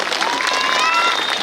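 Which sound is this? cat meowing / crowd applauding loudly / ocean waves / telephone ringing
crowd applauding loudly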